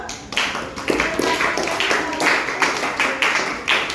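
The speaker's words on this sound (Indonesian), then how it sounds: "terima kasih kelompok visual 1, beri tepuk tangan dulu." A classroom group claps for a presenting team of students, several hands striking in an uneven rhythm of bursts, fairly close and moderately loud.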